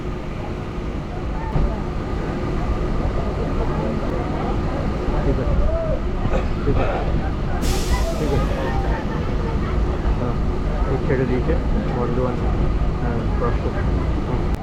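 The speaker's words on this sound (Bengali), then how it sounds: "বিকেল ঠিক 5টা 50 বর্ধমান থেকে হাওড়ার উদ্দেশ্যে লোকাল ট্রেনটি ছাড়ল।" Local train pulling out of Bardhaman bound for Howrah, a continuous loud rumble of wheels and carriages with station noise and voices in the background.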